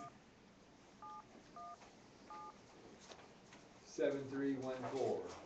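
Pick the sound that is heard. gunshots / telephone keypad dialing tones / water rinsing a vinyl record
telephone keypad dialing tones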